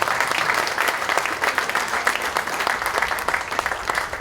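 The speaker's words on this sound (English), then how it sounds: "let us hear it again with another round of applause for all those who contributed" Sustained applause from a crowd at the grand opening of an inspiration center in Belize, steady dense clapping that fills the whole stretch without a break.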